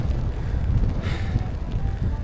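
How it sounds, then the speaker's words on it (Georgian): Wind blowing at a mountain weather station 3600 metres above sea level in Georgia, a steady close roar buffeting the microphone with low rumbling gusts. "ეხა ცოტა დაწნარდა ქარი"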